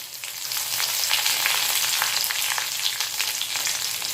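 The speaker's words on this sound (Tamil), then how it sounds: "காஞ்ச மிளகாய் நல்லா வதக்கிக்கோங்க" Dried red chillies and curry leaves sizzle steadily in hot oil for a buttermilk kuzhambu, a dense close crackle of frying throughout with no talking.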